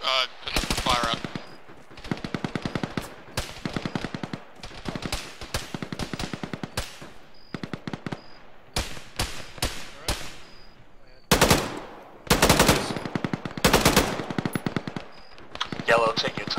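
Bursts of automatic gunfire in the military shooter game ArmA, in rapid rattling strings separated by short pauses, some loud and close and others more distant, with occasional voices in between.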